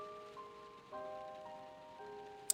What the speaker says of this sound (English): their only sounds are the creak of bones and patter of rain